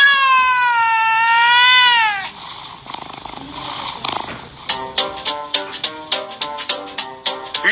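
A cat lets out a long, drawn-out meow that rises and falls, heard close and alone, followed by a quick series of shorter, evenly spaced meows.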